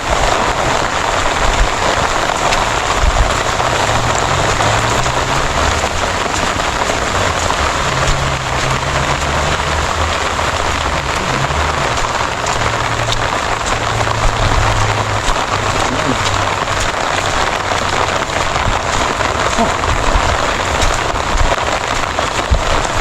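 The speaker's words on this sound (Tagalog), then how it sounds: "Lakas ng ulan." Heavy rain pours steadily onto surfaces during an evacuation of belongings, a dense, constant loud hiss throughout with low rumbling underneath and no talk.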